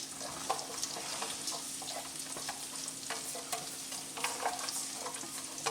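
Chopped onions frying in melted butter in a pan, with a faint steady sizzle and scattered crackles and stirring scrapes throughout, and no talking.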